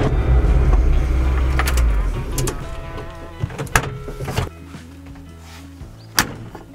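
A car's power window hums, then several sharp thumps and clunks of a door being shut, with a low engine drone beneath.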